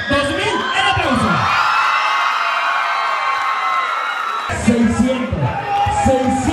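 At a prize contest in Lomas del Carril, Temixco, Morelos, a crowd roars with sustained whoops, yells and cheering, then drops back as nearby voices talk over lingering shouts.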